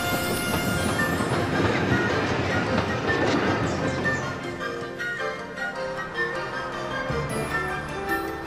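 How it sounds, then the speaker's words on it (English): A passenger train rumbles and rattles along the rails at steady, close range, with a dense clatter that eases slightly toward the end. "passenger trains rattle and roll in and out of the station"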